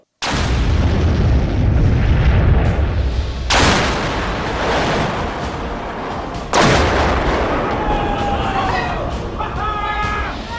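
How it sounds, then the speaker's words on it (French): A huge explosive detonation thunders as a deep rumbling blast, followed by two more sharp booming surges that roll on and fade, heard loud and close. "10 fois plus puissante que toutes les autres explosions de Mythbusters. C'était vraiment une détonation à tout casser."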